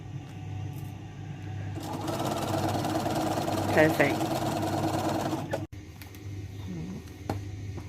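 A sewing machine stitching a quilt whirs steadily for several seconds, a buzzing mechanical run that stops abruptly; a voice speaks briefly nearby.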